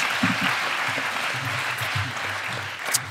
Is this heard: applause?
yes